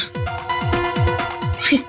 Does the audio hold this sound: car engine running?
no